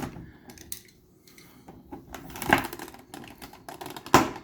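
Hands pry at a strong plastic blister pack holding an anime figure, producing crinkles, scratchy rustles and a couple of sharp cracking pops, close and fairly quiet, with no voices.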